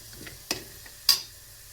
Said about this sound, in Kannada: ಸೊ ಇದನ್ನು ಚೆನ್ನಾಗಿ ಮಿಕ್ಸ್ ಮಾಡ್ಕೊಳ್ಳಿ. ಎಣ್ಣೆಲಿ ಚೆನ್ನಾಗಿ ಮಿಕ್ಸ್ ಆಗಲಿ ಇದು.